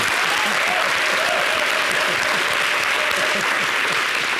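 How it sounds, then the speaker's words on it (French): Dense, sustained applause from a large audience, loud and continuous throughout without pauses. "Applaudissez pour l'applaudissement."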